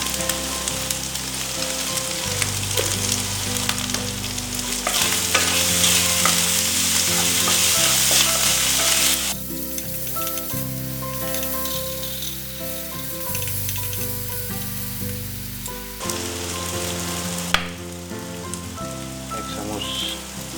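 Pork cooked with banana flower and spices sizzles loudly and steadily in a pan, with a rain-like hiss that swells and fades and intermittent stirring scrapes over about twenty seconds.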